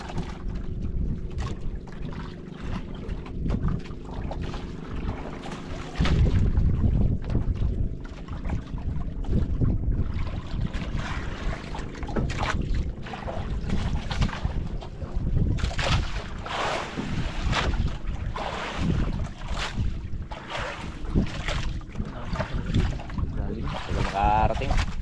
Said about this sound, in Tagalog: Bilis ng bangka na yan oh